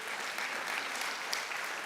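A church congregation applauds steadily during a Spanish-language sermon, a dense wash of many hands clapping together at moderate distance, fairly soft and unbroken for the whole stretch.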